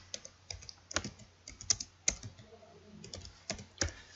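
Rapid, irregular keystrokes on a computer keyboard while a name is typed into a Windows properties field, close and fairly quiet, with sharper clacks scattered among softer taps and no talking.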